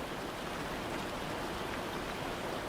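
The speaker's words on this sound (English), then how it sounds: "the rain" Steady rain falls at an even, unbroken hiss, a soft wash of water close by with no voices and no other sounds breaking through.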